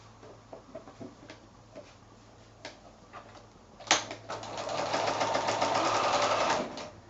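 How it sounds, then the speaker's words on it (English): Sewing machine running a quarter-inch seam along a quilt sashing strip joining 5-inch squares: a few soft clicks and handling taps first, then a steady, fairly loud mechanical whir of stitching for about two and a half seconds before stopping. "So I'm just going to sew that now with my 1/4 inch seam allowance."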